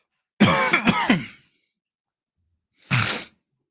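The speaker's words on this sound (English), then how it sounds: "already coughing and choking right now" A harsh, raspy cough bursts out in a cluster close up, then silence, then one more short cough.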